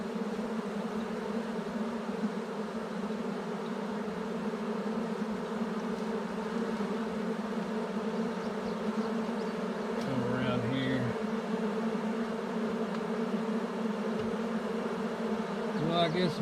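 Honey bees fanning at a hive entrance the day after a swarm was installed, a steady, dense buzzing drone close by that holds evenly throughout with slight rises in pitch.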